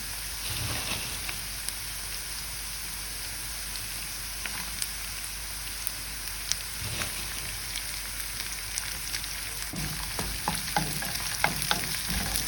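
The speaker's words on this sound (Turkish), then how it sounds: "Evet soğanlarımız sotelendi güzel. Kavruldu. Şöyle biberlerimizi de ekleyin." Steady sizzling and crackling of onions and peppers sautéing in a pan, with occasional clinks and scrapes of stirring, no talking.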